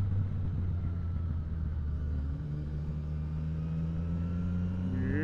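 Motorcycle engine idling and rumbling steadily on a slippery road, with a low hum that shifts slightly partway through and a faint rising whine at the end, close and continuous.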